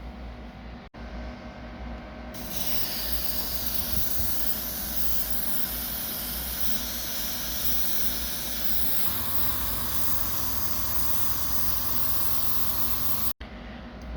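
Chrome paint sprayed in a second coat from an aerosol can, a steady loud hiss running unbroken for about eleven seconds before cutting off.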